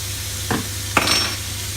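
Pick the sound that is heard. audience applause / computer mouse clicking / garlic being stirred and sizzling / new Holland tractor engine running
garlic being stirred and sizzling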